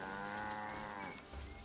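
A cow in the game Assassin's Creed Origins, set in ancient Egypt, lets out a single loud, drawn-out moo close by, with no talk over it.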